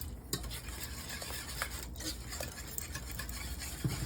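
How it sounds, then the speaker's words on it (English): Parmesan cheese is whisked into a thickened béchamel sauce in a pot, a faint, soft, continuous scraping and swishing with occasional light taps of the whisk against the pan. "Now I'm going to add about a cup of Parmesan cheese. Whisk that in."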